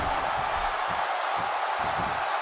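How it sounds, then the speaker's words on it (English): A wrestling match crowd roars steadily in a dense, continuous wash of cheering and whooping, loud and sustained with faint low thumps beneath. "And listen to this crowd."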